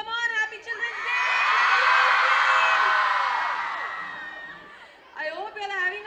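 A crowd of children at a Children's Day celebration lets out a loud, sustained scream and cheer that swells for several seconds. An adult voice speaks before and after it.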